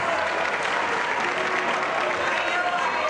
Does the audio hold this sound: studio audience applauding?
yes